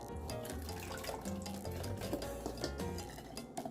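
Chilled custard for black cake ice cream poured into an ice cream maker in a home kitchen, a continuous close liquid trickle and splash with faint clinks, heard alone without talk.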